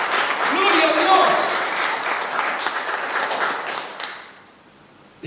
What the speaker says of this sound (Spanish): Le damos un fuerte aplauso de alabanza al que vive